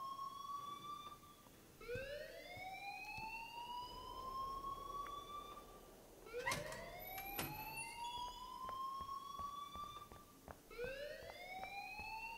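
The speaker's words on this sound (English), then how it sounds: "please turn off that alarm since that's your job" An alarm rings in the Life is Strange video game, a loud electronic whooping tone that repeatedly sweeps upward in pitch. It cycles several times with brief breaks and has a few sharp beeps mixed in.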